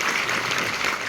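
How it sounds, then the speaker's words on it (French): An audience at a Korean film festival screening in a Paris cinema applauds in a brief, dense burst of clapping that fills the room. "Ensuite, vous pouvez applaudir aussi si vous voulez."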